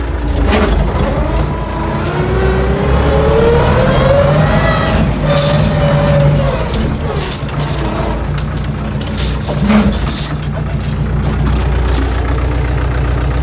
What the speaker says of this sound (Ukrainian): Піднімаю плуга.